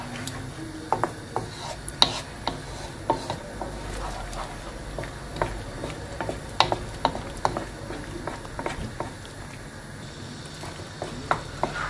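Chicken filling stirred in a pan for mini pastella, with scattered utensil scrapes and taps against the pan over a low steady cooking hiss, close and moderately quiet.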